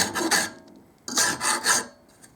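A metal file rasps across the end of a hardened steel cold chisel in two clusters of short, sharp strokes. It is close and scratchy, with quiet gaps between the groups.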